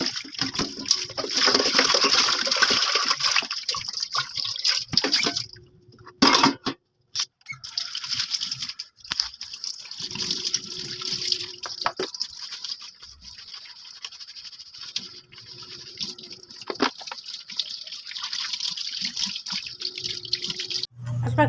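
Tap water runs and splashes over air fryer parts being washed by hand in a home sink, a steady close patter broken by brief pauses and clatters of handled pieces.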